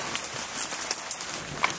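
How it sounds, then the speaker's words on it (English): Rain falls outside an abandoned game and toy store in Fukushima, a faint steady patter of drops on surfaces with scattered louder taps, heard alone and quiet. "I forgot it was raining."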